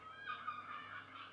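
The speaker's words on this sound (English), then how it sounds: "Seagulls outside." Seagulls call outside, a quick run of faint, distant squawking cries heard through a wall or window, with no talking over them.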